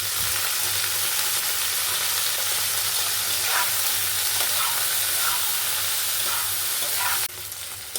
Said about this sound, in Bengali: ঢেঁড়সগুলো ভাজা হয়ে গেছে এবার আমি এগুলোকে নামিয়ে নেব